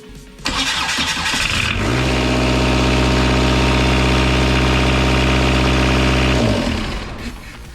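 A Kubota V2403 diesel engine fitted in a 2006 Jeep Wrangler TJ cranks, catches and races to a sustained high-revving roar, holding loud and steady for several seconds before dropping off.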